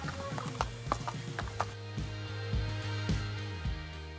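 A horse's hooves clip-clop steadily at a walking pace on a ride through Matheran, a quiet Indian hill station, the regular close thuds sounding over a low background hum with no talking.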